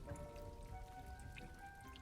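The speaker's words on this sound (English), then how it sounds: "A little magic. Rain." Magic rain spell in the Hogwarts Legacy video game pattering steadily onto a potted plant, soft continuous patter of drops with faint tonal game ambience underneath.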